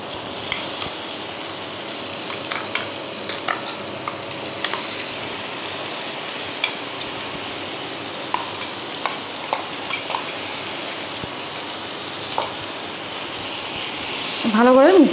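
Minced chicken for a stuffed chicken naan filling is stirred and fried in a pan, with a steady sizzle and frequent spatula scrapes and clicks throughout. A brief voice rises near the end.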